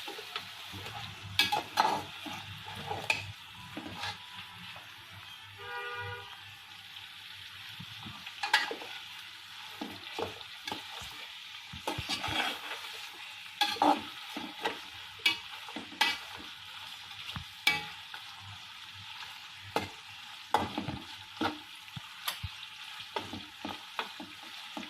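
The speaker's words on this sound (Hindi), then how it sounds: "एक से 2 मिनट तक फ्राई करेंगे।" Ingredients for mutton yakhni pulao fry and get stirred in a pot, a soft continuous sizzle broken by frequent spoon scrapes and clinks against the metal, fairly quiet and close with no speech.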